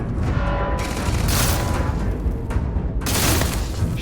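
Gunfire in the video game Starfield, aimed at security cameras: loud, booming shots and bursts in rapid succession, dense and continuous with heavier blasts around the middle and end.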